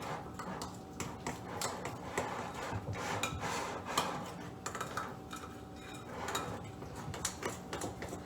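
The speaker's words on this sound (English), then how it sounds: "I scrape the edge of the bowl gently to pull off the extra mix or extra liquid pools." A spatula scrapes around the sides and bottom of a bowl of gluten-free honey cornbread batter in a kitchen, giving a soft continuous rubbing and scraping with light taps, faint and close.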